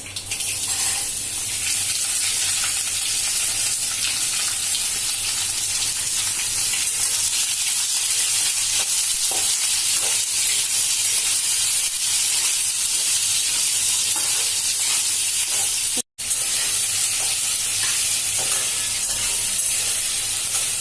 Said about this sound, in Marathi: लसूण चांगला लाल झालाय, फोडणी तडतडली। आता आपण कैरी टाकतोय।